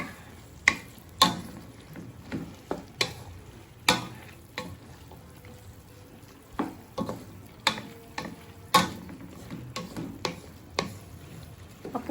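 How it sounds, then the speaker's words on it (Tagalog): Onions, garlic and tomatoes sautéing in a cooking pot for a vegetable dinuguan, a soft continuous sizzle broken by frequent sharp scrapes and clacks of a utensil stirring against the pot, close and alone. "Ang daming sibuyas at saka bawang, kamatis. Tunawin muna natin siya."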